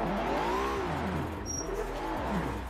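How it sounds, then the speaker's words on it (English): Tires squealing through a burnout in Forza Motorsport 7, on a car with an RB26 engine: wavering, pitch-sliding screeches over a steady engine drone, loud and close, with one brief high whine partway through. "And let's burn some tires"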